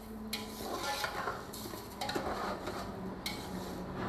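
Sugar is stirred into zarda, a sweet rice dish, in a large cooking pot, giving steady scraping and clinking of a metal spoon against the pot, close and fairly loud, with no talk.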